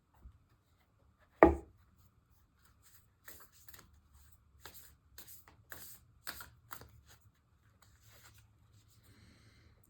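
Rose Oracle cards are being shuffled, with a sharp tap at the start followed by a series of soft, papery riffling flicks in quick clusters, close and quiet in a still room.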